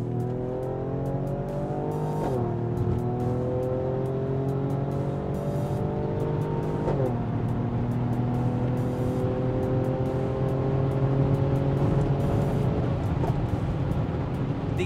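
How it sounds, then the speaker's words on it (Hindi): Mercedes-AMG GLE 43 4Matic Coupe exhaust, loud and close, rising through the revs in three long pulls with sharp gear-change drops and crackle between them. "Now just listen to this exhaust note."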